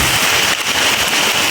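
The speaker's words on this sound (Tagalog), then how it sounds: "Grabe ng ulan mga tulo." Heavy rain pours down in a loud, dense, unbroken hiss, close and steady throughout with no voices.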